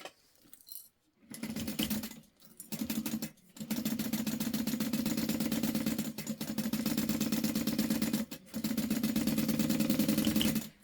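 A sewing machine chain-stitches clear vinyl bag pattern pieces together, running in rapid mechanical bursts separated by short pauses, close and alone without talk.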